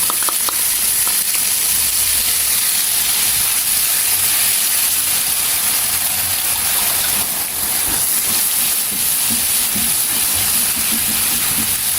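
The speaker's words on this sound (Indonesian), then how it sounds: "selanjutnya tumiskan sambal dengan 3 sendok makan minyak goreng" Sambal sautés in three tablespoons of cooking oil, making a loud, even, hissing sizzle that runs unbroken and close up with no voices.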